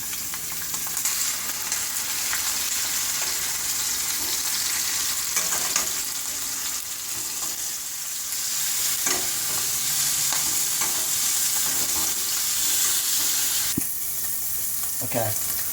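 Beef short ribs sear steadily in a hot pan, a continuous close sizzle and frying hiss with occasional stirring scrapes, running alone without talk before braising in red wine.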